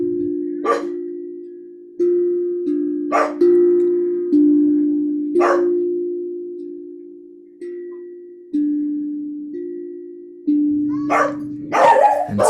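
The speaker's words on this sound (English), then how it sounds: "my dogs provide my opposition for my stillness and silence, I recognize the opportunity that we have with that extraneous ambient noise" Dogs bark in short, separate bursts, about four or five times, over a sustained low meditation drone during an evening stillness session, ending with a cluster of barks.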